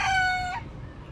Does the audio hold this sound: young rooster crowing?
yes